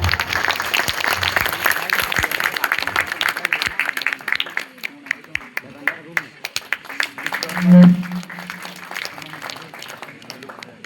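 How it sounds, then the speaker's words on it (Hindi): Loud, dense applause from an audience at a college debate on the Uniform Civil Code, a sustained crackle of many clapping hands with a brief low tonal thump near the end and voices underneath. "एक बार सर के सम्मान में जोरदार तालियां।"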